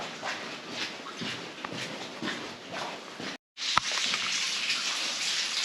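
Steady watery patter and trickling fill an echoing underground tunnel of the Projekt Riese complex in Poland, broken by a brief silence before the dripping and splashing resume louder.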